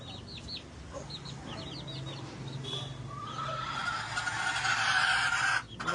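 Backyard chickens and hens feeding, with soft repeated clucks and short chirpy calls near at first, then a louder broad rushing noise builds in the second half and cuts off abruptly near the end.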